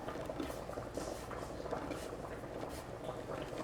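Noodles boil in a pot with a soft, continuous bubbling and gurgling that stays at a low, even level throughout.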